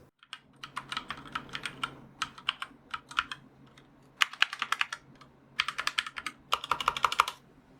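Close, crisp typing on a Logitech keyboard in quick bursts of clacking keystrokes with short pauses, over a faint steady hum.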